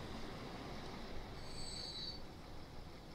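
Train rolling through on a rail line in the Transport Fever 2 game, a steady low rumble with a faint high wheel squeal rising briefly midway, no talk.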